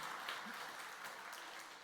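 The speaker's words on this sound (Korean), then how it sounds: "박수가 나오다니." Faint applause from a church worship congregation runs steadily through the short stretch, soft and distant under the room ambience.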